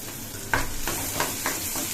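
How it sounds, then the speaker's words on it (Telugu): Chopped carrot, capsicum and green chillies go into a frying pan and are stirred, a close sizzle punctuated by a thump as they land and a few rhythmic scraping strokes, with no voices. "ఇప్పుడు మనం వేసుకోవాలి మనం చాప్ చేసిన గాజర్, క్యాప్సికమ్ అండ్ మన పచ్చిమిర్చి అండి. ఇవన్నీ వేసుకుందాం."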